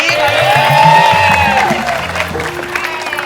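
A studio audience claps during the Indonesian comedy show Lawan Tawa, a loud, continuous patter of applause with voices and tonal sounds layered over it throughout.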